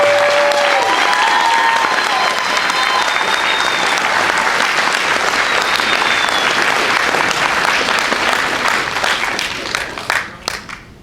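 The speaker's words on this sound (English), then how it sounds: "would you please give them a round of applause for all the work they're doing" A convention audience at the Scares That Care weekend gives a round of applause, loud sustained clapping that gradually thins out and fades toward the end, with a few last isolated claps.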